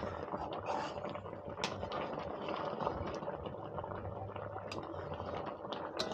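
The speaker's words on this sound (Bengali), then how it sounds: "গুড় দেওয়ার পরে একটু নাড়াচাড়া করে নিয়ে একটু জাল দিতে হবে, ফুটিয়ে নিতে হবে বেশি করে" Chutney sweetened with jaggery bubbling in a pan on the stove, a dense, steady crackle of small pops and sputters at close range, with no voices.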